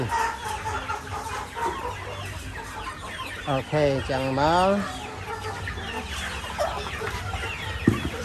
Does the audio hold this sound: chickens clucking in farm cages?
yes